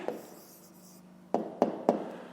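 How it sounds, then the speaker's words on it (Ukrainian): Pen strokes on paper while writing out the answer to a fifth-grade maths exercise, a soft scratchy stretch followed by three short, distinct taps or strokes, close and quiet with no talking. "зараз тоді записуємо відповідь"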